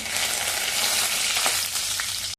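Garlic and curry leaves sizzle in hot oil for a Marathi tempering, a loud, steady crackling fry close up with a few brief spits and pops, no voices.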